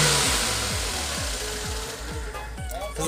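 Lada Zhiguli engine running at a car market, with a loud, close, rapid low thumping throb that pulses steadily as the throttle is worked.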